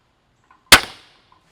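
An Excalibur Rev X crossbow firing a bolt: a single sharp, loud, close snap with a quick decaying twang, surrounded by near silence.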